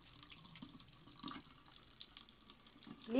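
A kitchen tap runs with a soft steady trickle while a cat drinks from the stream, faint and low, swelling louder at the end.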